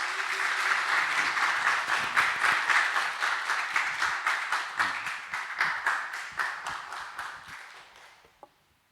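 A church congregation applauds a missionary to Mongolia, warm steady clapping that settles into rhythmic unison beats, then gradually fades and thins to a last clap and silence.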